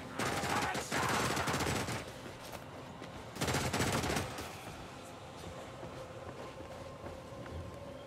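Bursts of rapid gunfire ring out in the Warhammer Vermintide game, two loud volleys around a dense crackling stretch over steady background battle noise, fairly quiet overall.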